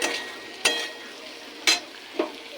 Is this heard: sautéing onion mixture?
yes